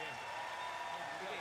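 Crowd at the Ford World Men's Curling Championship 2017 in Edmonton applauding Team Canada's win over Russia, a steady wash of distant clapping and cheering beneath a commentator's voice.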